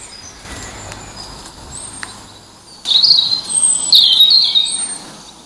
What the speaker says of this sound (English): This is like a field recording I made in the garden, so you can hear the birds.